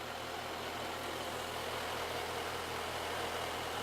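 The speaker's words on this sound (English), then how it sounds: "we're just going to let the engine sit in idle for a couple of seconds" Engine idling steadily on a calibration test setup, a faint, even low rumble with a regular pulsing beat and constant background hiss, no voices.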